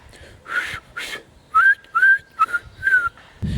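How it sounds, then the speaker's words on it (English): A person whistles by drawing breath inwards, a few airy breathy blows followed by four short pitched whistled notes in quick succession, close and fairly loud, alone without talk. "I can only whistle inwards."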